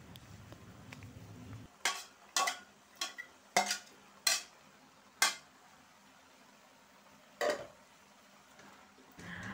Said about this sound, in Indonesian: Diaduk-aduk, dibulak-balik sampai layu.